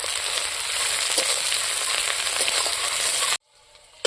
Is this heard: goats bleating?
no